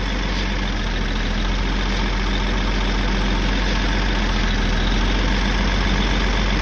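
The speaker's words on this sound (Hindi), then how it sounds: "इसमें तो भाई कमेंस का इंजन है" A Cummins diesel engine idles steadily and close by, a constant low rumble with a faint high whine running over it. No one speaks.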